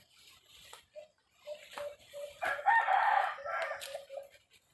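A labuyo, a wild junglefowl rooster, crows in a full cock-a-doodle-doo call at close range, rising and falling over a few seconds, with softer clucking notes before and after.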